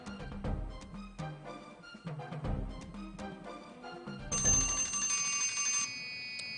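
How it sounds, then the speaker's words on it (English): A bell rings during a school quiz competition, a series of sharp metallic strikes in irregular bursts, then a sustained bright ring near the end. "That was after the bell."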